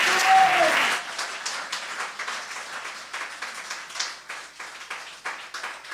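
A church congregation applauds during a French-language service. The clapping is loud and dense at first, then thins to scattered, uneven claps that carry on at a lower level.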